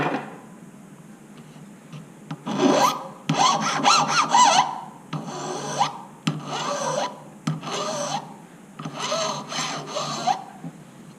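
Small metal rectangle being sawn by hand at a jeweller's bench, a close rasping stroke repeated in uneven bursts with brief pauses between, no talk.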